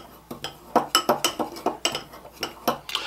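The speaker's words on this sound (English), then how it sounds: "we're just going to whisk these together to make a cinnamon sugar streusel" Cinnamon and sugar being whisked together in a small bowl, a quick irregular series of sharp metallic clinks and scrapes against the bowl, close and clear.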